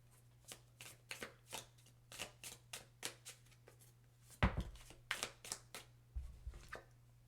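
Tea leaf oracle cards shuffled by hand close up, a run of crisp, evenly spaced riffling flicks about twice a second, with a couple of heavier thumps as the deck is handled. No talking.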